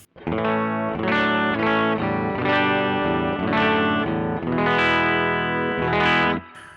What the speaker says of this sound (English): here's what the bridge humbucker sounds like straight in.